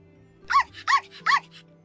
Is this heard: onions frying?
no